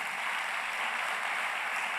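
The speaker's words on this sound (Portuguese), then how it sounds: "aplauda o Senhor Jesus pelo que você entendeu." Steady applause from a church congregation fills the whole moment, a dense even patter of many hands clapping with no voices.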